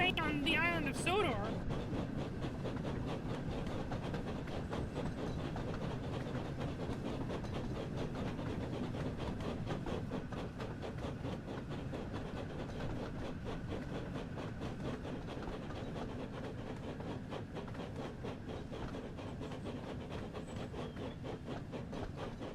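A train running in the video game Thomas & Friends: Wonders of Sodor gives a steady low rumble with a faint rhythmic clatter throughout, while someone talks over it.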